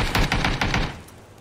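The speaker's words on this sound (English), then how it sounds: "Single shooting." Several sharp gunshots in PUBG crack in quick succession over about a second, loud and close, with a noisy echoing tail and no talk.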